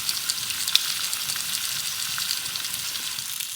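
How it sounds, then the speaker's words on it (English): Lardons frying and browning in a pan over a fire in a rainy-night tarp hot tent, a steady bright sizzle with faint pops and crackles throughout, fairly close and continuous with no talking. "Just added some lardons, so I'll get those going and get them browning off"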